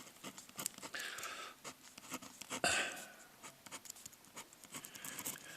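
Pen or marker strokes scratch steadily across a surface while an algebra equation, 4x minus 2y equals negative 18, is written out, a close, quiet run of short scribbling bursts with no talk.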